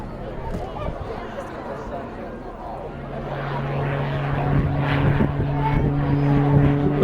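An RAF Tucano turboprop flies an airshow display, its propeller drone steady and moderately distant, slowly rising in pitch and loudness, while a commentator talks over it.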